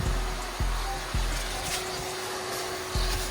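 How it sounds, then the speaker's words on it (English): Vacuum cleaner running in a suburban garage setting, a steady loud whirring drone with a constant hum, interrupted by a few brief thumps as the nozzle knocks against surfaces. "This vacuum is amazing."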